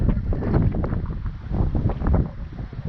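Strong wind gusts of 35 to 40 mph buffet a microphone outdoors in Scotland during a solo packrafting trip. A continuous, rumbling roar swells and eases with no pauses.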